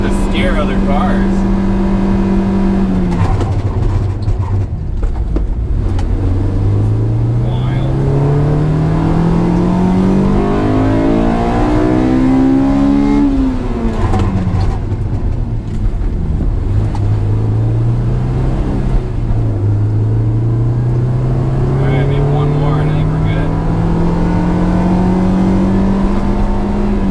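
Honda S2000 engine cruising on the road, a steady drone with gear-by-gear rising pitch sweeps as it accelerates and shifts, heard continuously and close, with a person talking over it.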